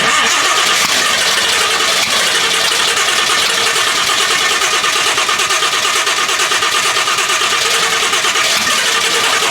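Street NASCAR stock car engine cranking and catching, then running loud and rough at partial throttle close by, a dense continuous mechanical roar with no talk over it.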